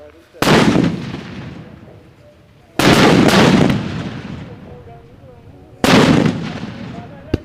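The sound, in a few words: string of firecrackers (thoranam) exploding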